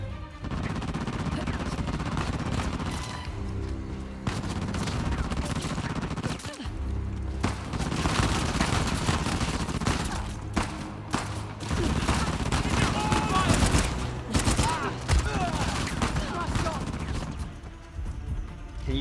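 Gunfire in Uncharted: The Lost Legacy, sustained rapid bursts and single shots with impacts in a loud, close firefight, dense and nearly continuous with short gaps.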